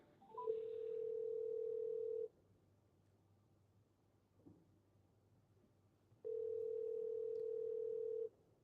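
While a call is being placed, a steady telephone ringback or dial tone plays in two long, even bursts of about two seconds each, separated by a quiet gap, heard faintly through the line.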